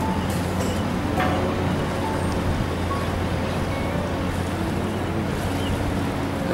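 Water taxi boats on the Singapore River give off a steady low engine drone with wind and water wash, a continuous outdoor rumble without talk.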